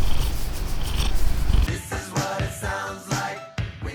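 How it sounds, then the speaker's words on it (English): A pet cat purrs close by while being stroked, with a steady low rumble and loud breathy pulses, followed by shorter snuffling bursts, without talk. "I pet my cat."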